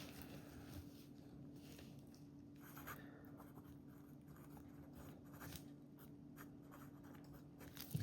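A budget imitation of a LAMY Safari fountain pen scratches across paper in soft, quiet strokes with short pauses between them, heard close over a low steady background hum.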